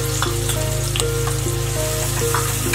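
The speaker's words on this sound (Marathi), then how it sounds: "हे चांगलं तेलात परतत आहे।" Bay leaf and onion sautéing in hot oil, a loud, dense, continuous sizzle and crackle close up with a few light stirring taps, no voices.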